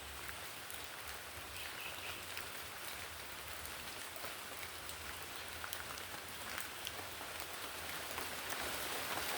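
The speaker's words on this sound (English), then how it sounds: "The rain don't stop." Rain falling in El Yunque rainforest, a steady, soft, dense patter of drops on foliage, continuous and fairly faint with no voices.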